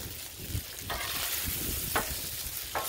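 Fried rice with chicken and smoked sausage sizzles steadily on an outdoor griddle, a close, continuous frying hiss broken by a few brief scraping strokes.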